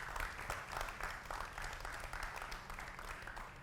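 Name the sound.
audience applause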